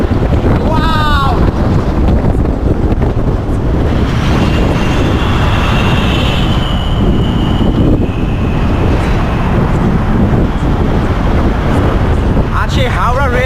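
Cold wind roars steadily across Howrah Bridge, buffeting the microphone with a loud, continuous rush over a low rumble of the crowded crossing. Brief voices are heard at the start and end.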